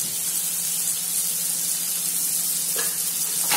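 Tomatoes with salt are stir-fried in a pan, producing a loud, continuous hissing sizzle with a faint scrape from the spoon partway through.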